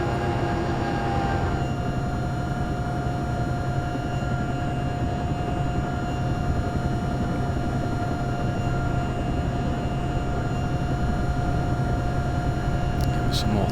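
Continuous aircraft engine drone with throttle held up in a flight video game, a steady loud hum with a tonal whine, running under occasional talking.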